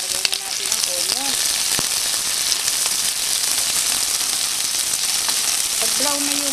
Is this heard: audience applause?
no